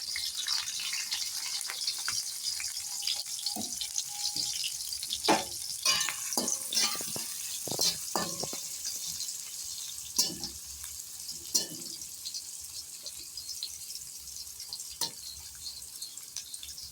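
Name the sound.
frying garlic, chillies and onions in hot oil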